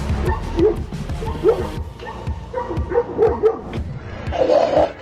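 A Tibetan mastiff barks and yips repeatedly in a close, irregular series of deep woofs and higher whining yelps, continuing throughout.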